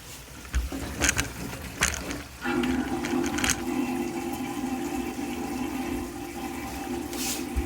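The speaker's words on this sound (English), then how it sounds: "So we'll fill this up and just drain everything out, make sure there are no leaks." Water drains out of a newly installed vanity sink. A few knocks and splashes come first, then a steady gurgling rush of draining water continues close by.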